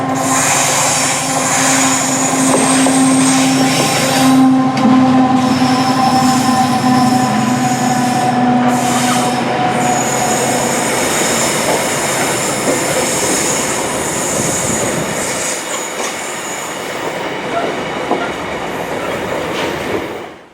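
A freight train runs through the loop line at Dorridge station, giving a loud, continuous rumble with clattering wheels and a sustained metallic squeal. The noise fades toward the end as the train passes.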